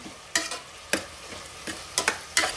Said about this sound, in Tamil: ஸோ நம்ம தக்காளி ஆட் பண்ணியாச்சு. நல்லா இது வறுபடட்டும்.